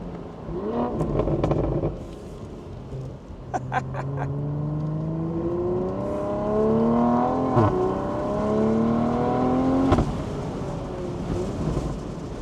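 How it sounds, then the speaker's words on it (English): A tuned BMW 840i (G14) with a catback exhaust and downpipe revs and drops through gears, with quick sharp throttle blips between downshifts and a few crackles, heard from inside or close by. "as you can hear, we have also added throttle blips to the downshifts"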